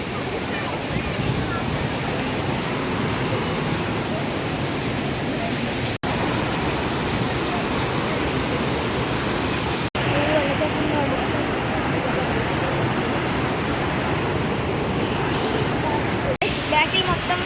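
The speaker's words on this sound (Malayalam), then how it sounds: "വാട്ടർഫോൾസ്." The waterfalls at Malampuzha send up a loud, constant broadband roar, steady and unbroken with a few brief dropouts, while people talk over it.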